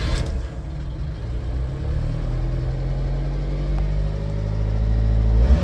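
A car engine cranks and catches, then runs steadily with a low, rising rumble that builds toward the end, close and loud with no talk over it.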